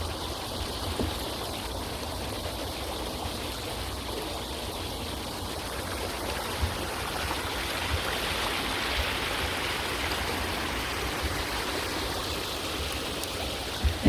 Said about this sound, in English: Have a little creek with a dam.